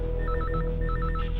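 An old-style telephone bell rings in two rapid trilling bursts over a low background hum, loud and close.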